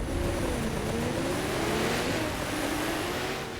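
Porsche 911 launching from a race start in The Crew 2, a loud, close engine roar rising steadily in pitch as the car accelerates hard, with no voices.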